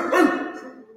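During a kickboxing workout, people imitate dogs with their voices, giving a single loud, close, rough bark-like shout that tails off quickly.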